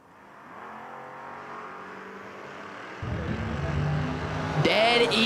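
Two footbrake drag cars, a Maverick and a Camaro, rev at the line then launch together, engine roar jumping louder near the midpoint and climbing to a loud, strained finish.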